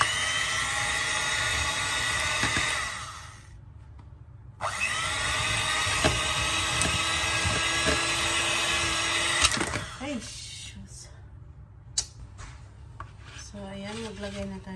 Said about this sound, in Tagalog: blender muna siya.